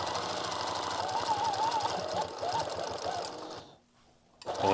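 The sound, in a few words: sewing machine stitching in the ditch while quilting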